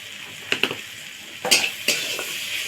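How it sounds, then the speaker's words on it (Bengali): Spice masala with turmeric and chili powder being stir-fried in a pan for an evening snack: a few sharp spatula scrapes and clinks, close by, over a soft steady sizzle. "এবার মশলাটা আর একটু কষিয়ে নেব।"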